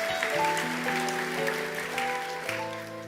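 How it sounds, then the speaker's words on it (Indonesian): A church congregation at an Easter celebration service claps together in a dense, steady patter, blended with sustained keyboard chords playing underneath. "Kita beri tepuk tangan untuk kebenaran ini."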